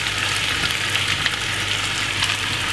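Boneless beef for a Jamaican beef curry sizzles steadily in a pot, a dense continuous frying hiss with faint crackles and no voices.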